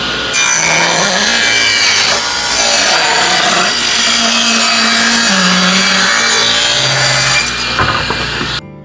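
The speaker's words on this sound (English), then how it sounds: "Now we're going to cut it down to width." A power saw rips wood panels down to 3.5-inch width, a loud continuous cutting whine with shifting pitch that runs steadily for about eight seconds, then stops abruptly near the end.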